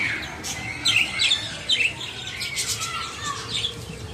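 Parakeets at a zoo chirp in quick, bright bursts, several short tweets and squawks overlapping against a busy outdoor background, fairly close and steady throughout.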